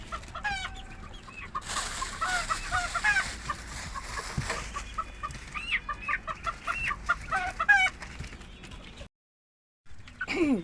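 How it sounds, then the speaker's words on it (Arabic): White chickens and ducks eating feed sprinkled with yeast in a backyard flock, with steady overlapping clucks and occasional honks close by, continuing throughout before a brief silent gap near the end. "الفراخ البيضاء بتاكل مع بعضيها"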